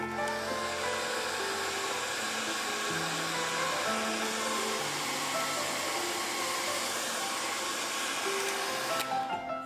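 A hair dryer blows steadily over a watercolor pencil painting, a loud continuous whirring drone with shifting tone that cuts off at the end, no voices.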